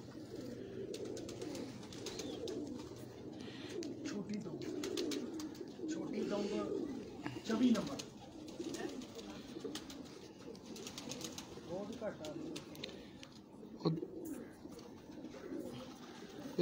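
Pigeons kept in a loft in Sheikhupura district coo softly and repeatedly in low, rolling calls, with occasional wing flutters and someone talking over them throughout.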